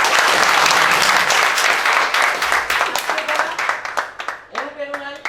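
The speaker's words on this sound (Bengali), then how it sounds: "তার জন্য আমরা জুড়ে একটা করতালি দিই" Audience clapping together at a Bengali literary and cultural gathering, loud dense applause from many hands that slowly thins and fades over a few seconds, with a voice starting to speak as it dies away.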